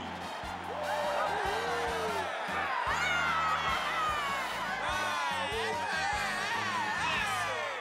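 A large crowd roars and cheers loudly, with whoops and shouts rising over a steady clamor that carries on for several seconds.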